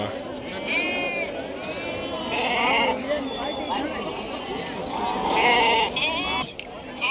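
Young sheep or goats bleat repeatedly at a rural livestock market in Koppal, several near, high calls overlapping amid crowd chatter and people talking nearby.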